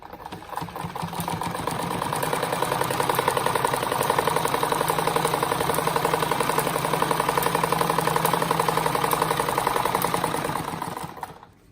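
An electric sewing machine runs steadily for about ten seconds, stitching an X across the middle of a looped rag rug made from fabric scraps, with a fast, even mechanical whir that swells up and then winds down at the end, no voices.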